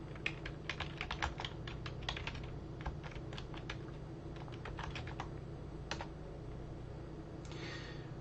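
Quiet keystrokes on a computer keyboard, bursts of rapid typing with short pauses between words, close and soft with no speech.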